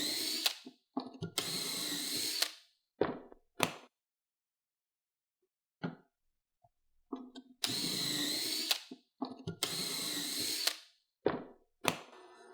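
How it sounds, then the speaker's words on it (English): A power drill drilling wood whirs in several loud bursts of about a second each, separated by quiet pauses and brief clicks and knocks. "you're ready to move to the next step, which is drilling."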